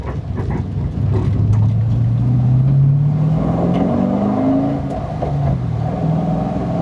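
Engine noise fills the cabin of a 550 hp, 1200 kg BMW E46 M3 track car with a V8 swap and solid bushings, its loud drone climbing steadily in pitch as the car accelerates, with no talking.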